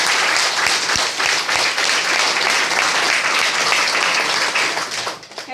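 Loud, dense applause from an audience at a gathering of guests and associates, sustained steadily before thinning out near the end.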